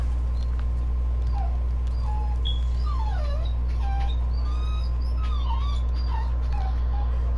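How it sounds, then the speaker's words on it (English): A dog whimpering and letting out high, thin yips in short, wavering cries scattered across several seconds, faint to moderate, over a steady low hum. "Dog, shut up."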